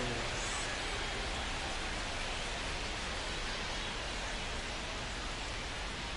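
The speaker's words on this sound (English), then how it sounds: "This rain is not letting up." Heavy rain falling on PNC Park in the MLB The Show 25 baseball game, a dense, even hiss of downpour that stays steady and constant throughout.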